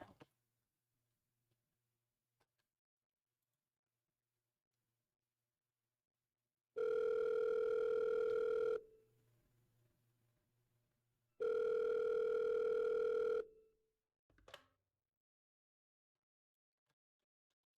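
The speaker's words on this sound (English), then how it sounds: "Telephone pickup sound effect." A telephone pickup sound effect with a steady dial tone, heard as two long, loud bursts separated by a pause, with faint clicks and a short handset rattle after them.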